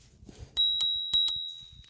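A handlebar bicycle bell on a KBO Ranger e-bike rings close and clear in two quick pairs of bright dings, each ringing out and fading, with no talking.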